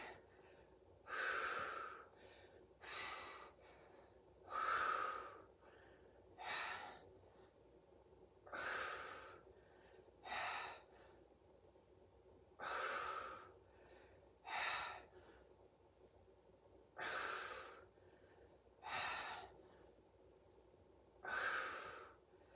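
Heavy, rhythmic breathing during a timed metabolic weights workout, about a dozen loud, evenly spaced breaths with sharp inhales and exhales, close to the microphone, no talking over it.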